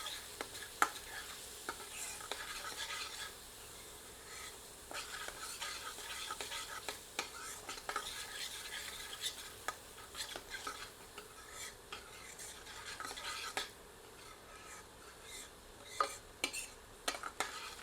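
Spoon stirring spices, chilli, salt and garam masala in a pan over low heat for lauki kofta curry, with steady scraping strokes over a soft sizzle, close and moderately loud, no talking.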